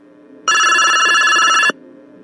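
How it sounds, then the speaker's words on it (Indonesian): A telephone rings with one sustained electronic bell tone lasting a little over a second, loud and close, starting and stopping abruptly over a faint background hum. "ia mengangkat telepon itu"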